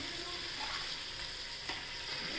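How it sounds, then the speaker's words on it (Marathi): Spinach with chana and toor dal sautés in hot oil, giving a continuous, fairly faint hiss of frying throughout a short stretch, with a brief stir midway. "ती तेलात परतून घ्यायची"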